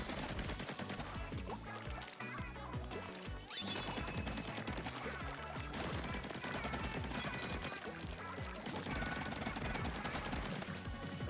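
Rapid gunfire and splatting crashes from Splatoon 3 as enemies are shot, dense and loud over game music, with no pauses.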